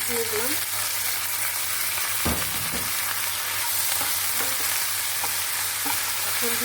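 Onion, green chili and potato frying and being stirred in a pan, a steady close sizzle running throughout with a few brief scraping stirs, no voices.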